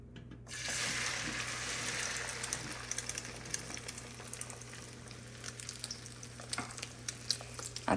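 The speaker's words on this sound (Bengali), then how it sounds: "আর তেল গরম হলে একটা একটা করে ডালপুরি ভেজে নিব।" Dal puri crackles and sizzles in hot oil in a home kitchen, a busy continuous frying hiss that gradually settles into scattered pops and spits, with no voices over it.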